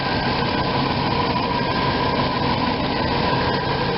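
A car engine idles steadily after new spark plugs and plug wires are fitted, a continuous, even, close-up rumble with a faint whirr of belt-driven accessories and no pauses.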